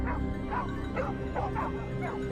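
A pack of hunting dogs barking and yipping in a rapid, steady series of overlapping calls, moderately close, outdoors in snowy weather.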